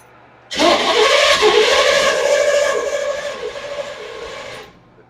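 A 1952 Ford F1 truck engine cranking and trying to start, one long loud churning burst of a few seconds that cuts off again, heard up close with no talk.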